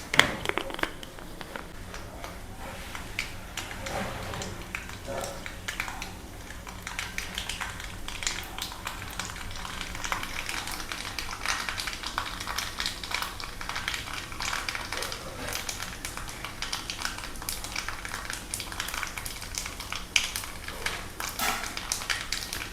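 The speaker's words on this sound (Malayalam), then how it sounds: "കടുക് പൊട്ടി." Mustard seeds pop in hot oil for a nutmeg pickle, giving a dense, irregular crackle of small sharp pops that continues throughout at a moderate level.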